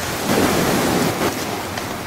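Steady rushing surf of Ligurian Sea waves washing onto a pebble shore near Genoa, continuous and fairly loud with no voices.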